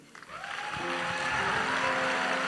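Audience applause at a Ghanaian conference session, a dense wash of clapping that swells within the first second and holds steady and loud, with faint voices and tonal hum underneath.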